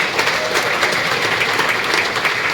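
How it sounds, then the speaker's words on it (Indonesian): A church congregation at a Sunday service in Jayapura claps in steady, dense, lively applause that continues evenly through the short stretch. "Yang tidak marah saja tepuk tangan yang meriah."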